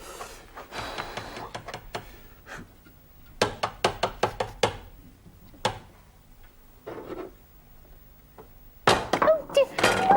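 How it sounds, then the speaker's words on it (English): Hard-boiled eggs cracked and peeled, sharp dry taps and crackles in irregular clusters, close and fairly loud, with pauses between bursts of knocking. "let's get on with peeling the hard-boiled eggs then"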